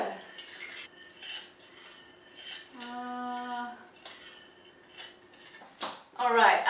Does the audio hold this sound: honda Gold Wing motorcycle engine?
no